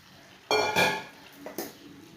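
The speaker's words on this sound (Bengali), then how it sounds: "এবারে আমি এর মধ্যে পটলগুলো অ্যাড করে দেবো আর সেই সঙ্গে চিংড়িগুলো একবারে অ্যাড করে দেবো" Fried pointed gourd and prawns drop into a metal pan for a Bengali prawn and potol dish, giving two quick clattering knocks and then a couple of lighter scrapes and clinks against the pan.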